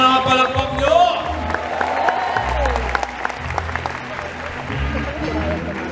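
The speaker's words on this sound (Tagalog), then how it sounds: "Palapakan natin." Audience at a training event at PICC applauding in a loud, sustained burst of dense clapping with crowd noise, while a voice talks over it through a PA.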